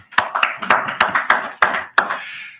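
Seven crisp, evenly spaced hand claps from a single nearby pair of hands give a small round of applause for competitors at a university Three Minute Thesis finals.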